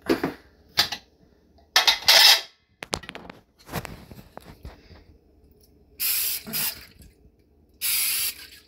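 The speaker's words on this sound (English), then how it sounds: "you spray this glass dish right here" Cooking spray hisses onto a glass dish in several short, loud bursts, interspersed with clicks and light handling sounds from the can and dish in a quiet kitchen.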